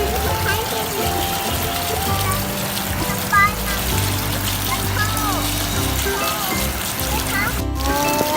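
Children play in the rain, steady rain and splashing water filling the scene while kids' voices chatter and squeal close by throughout.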